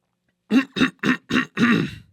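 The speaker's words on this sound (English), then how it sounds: "Cough break." Five short, harsh coughs in quick succession, close and loud, with silence before them.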